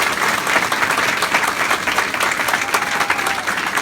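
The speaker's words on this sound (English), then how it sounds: "Please offer a round of applause for all the staff who stuck with us and got us through this day." An open-house audience gives the staff sustained applause, a dense, even clapping from a room full of people that carries on steadily throughout, with no talking.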